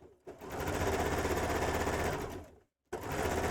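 A sewing machine stitches a straight seam in a dress in one fast, loud, even burst of needle strikes lasting about two seconds. It stops briefly and then starts running again, close up, with no voices.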